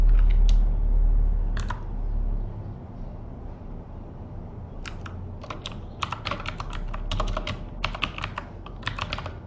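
Rapid keystrokes on a computer keyboard while entering code, in irregular bursts that grow denser toward the end, close and fairly loud over a low background hum.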